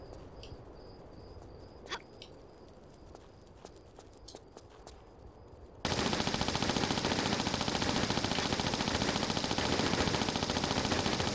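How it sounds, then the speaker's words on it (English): Rapid Uzi fire in a Tomb Raider level-editor game, starting abruptly after scattered footsteps and clicks and then running as a dense, continuous, loud rattle to the end. "So I'll just go ahead and equip my Uzis"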